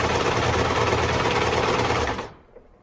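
A sewing machine stitching foot pads onto a fabric animal body runs in a loud, steady, fast mechanical whir for about two seconds, then stops abruptly, close up, with no talk.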